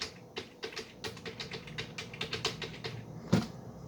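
Quick, uneven tapping on a computer keyboard whose O key is failing, with keys pattering close by in a fast stream and one heavier key strike near the end, with no voices.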